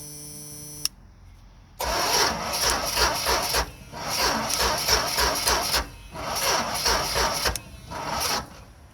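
Car engine that has sat unused for years cranking on a weak battery: three long starter bursts separated by short pauses, loud and close, with no talk over them.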